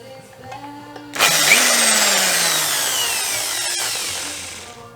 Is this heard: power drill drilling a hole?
yes